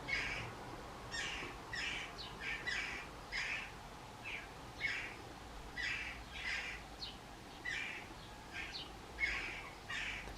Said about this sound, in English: That is a very hungry jackdaw begging for food.